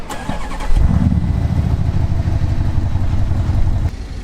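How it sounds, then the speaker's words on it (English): An Audi SQ7 engine cranks and catches with a sudden loud rise, then settles into a steady, deep rumbling idle that holds until it fades slightly at the end. "Start the engine."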